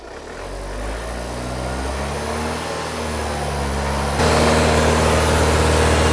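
An Audi A4 engine held at about 2,500 RPM during DPF filter cleaning, a steady mid-pitched drone that swells gradually and steps up louder near the end, with no voices.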